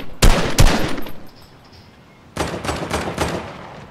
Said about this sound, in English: You being shot at? Yep.